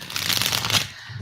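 Tarot cards shuffled close by in a brief, dense burst of crisp riffling and flapping that fades quickly, with no speech.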